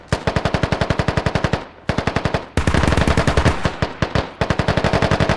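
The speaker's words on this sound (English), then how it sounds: "So, Russia just shooting the building up." Rapid machine-gun bursts in a video game as Russian forces shoot up a building, several loud, close volleys of evenly spaced shots separated by short pauses, with no talking.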